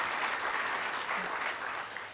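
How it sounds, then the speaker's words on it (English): A conference keynote audience applauds steadily, a dense wash of clapping hands at moderate distance with no talking over it. "you can clap for that"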